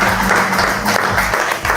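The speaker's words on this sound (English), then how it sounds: "Let us give them a great round of applause." Loud, dense audience applause fills the hall at a community gathering honoring guests, a steady wash of clapping that holds from start to finish with no break.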